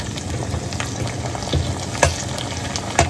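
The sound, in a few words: garlic and tomato frying and being stirred in a wok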